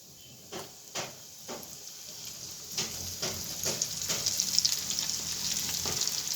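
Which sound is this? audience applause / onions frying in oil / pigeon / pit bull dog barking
onions frying in oil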